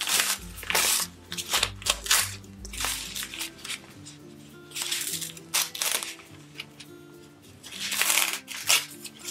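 Tear-away embroidery stabilizer is torn and pulled off a baby onesie, giving close crinkly ripping and rustling in uneven bursts over a low background hum.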